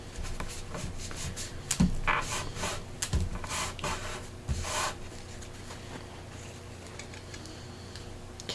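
A paper towel is rubbed and pressed across a journal page, a series of close, soft scratchy swipes with occasional light taps, busiest early and fading toward the end.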